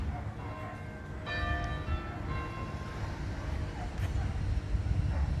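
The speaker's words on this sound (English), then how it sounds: "That was a church bell." A church bell at St Michael's, Flixton, rings once at a distance, its ringing tone fading slowly over a low background rumble.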